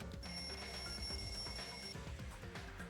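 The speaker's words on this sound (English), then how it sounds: "The lounge's wall clock alarm started ringing at 5:30." Wall clock alarm ringing in the video game Danganronpa 2, a bright electronic bell tone sounding steadily for most of the moment over a busy, pulsing music bed.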